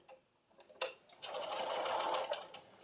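A sewing machine stitches binding onto a quilted Halloween bats-and-boos table runner, starting with a few separate needle ticks before settling into a fast, steady whirring run, close and moderately quiet.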